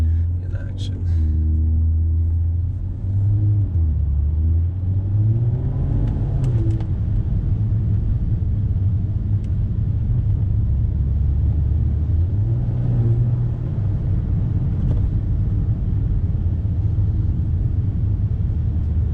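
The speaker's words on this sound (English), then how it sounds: "So you guys can hear the exhaust" A deep exhaust from a modified Volvo S60 T6 rumbling steadily while driving, rising briefly as the engine picks up, with a voice talking faintly underneath.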